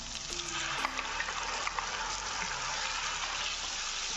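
Curry leaves and tomato paste sizzle hard in hot oil for a dal tadka, a steady dense crackle with a few sharp spits near the start, close and loud with no talking.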